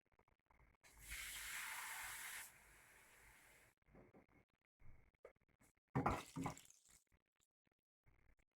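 Water poured from a vessel over vegetables in a cooking pot, a steady rushing splash lasting about two seconds, then quieter trickling and a second brief louder gush, with clinks between.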